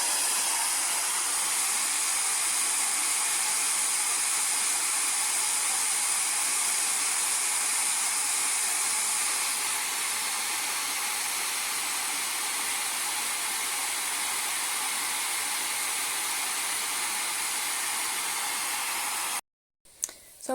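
Hair dryer running continuously for a long stretch as a steady, loud hissing airflow, used to prompt a pet snake at feeding time, cutting off abruptly near the end.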